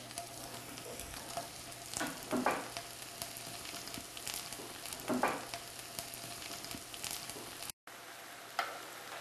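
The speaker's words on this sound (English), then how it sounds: "Once the oil is nice and hot, you can begin putting the tempeh strips in there." Tempeh strips fry in hot oil with a steady crackling sizzle, faint and close, and a few louder pops and stirring sounds at intervals. A brief dropout comes near the end.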